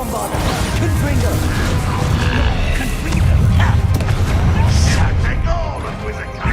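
Bombarda and Confringo spells burst and crash in a Hogwarts Legacy fight, loud blasts and whooshes piling up continuously with heavier impacts near the middle and end.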